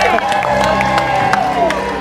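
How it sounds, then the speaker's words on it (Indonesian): A television studio audience cheers and claps in a lively burst, with shouting and voices mixed into the noisy crowd sound. "kita berikan tepuk tangan untuk pasangan kita"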